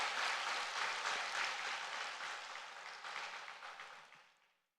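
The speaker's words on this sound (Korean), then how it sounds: "우리 이용훈 담임 목사님에게 큰 감사 박수 한번 올려드리겠습니다" A church congregation at a weekday fasting worship service applauds in a long, steady wave of clapping that gradually thins out and fades away, with no voices over it.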